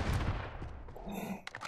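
An AK rifle fires in the video game Modern Warfare: a loud, punchy burst of gunfire at the start that fades into a brief echoing tail.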